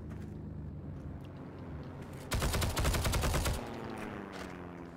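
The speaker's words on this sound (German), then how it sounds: "man kann einfach auf alles ballern, was da ist" A dense burst of automatic gunfire in the online war shooter Heroes & Generals, rattling loudly for about a second and a half over steady game background noise, with no talking.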